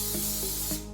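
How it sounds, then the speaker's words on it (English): Cooking oil sprayed from a can into a non-stick pan makes a short, steady hiss lasting about a second, close and fairly quiet. "So just a quick spray"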